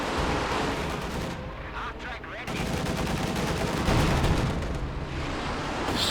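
Panzerwerfer rocket artillery launching a salvo in the strategy game Company of Heroes 2, a dense roaring barrage of whooshing launches and booming blasts, loud and continuous, with a caster talking faintly beneath.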